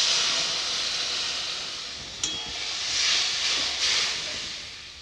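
Mustard paste thinned with water hits hot oil and frying spices with green chilli and turmeric, a loud broad sizzle with two sharper bursts as more liquid goes in.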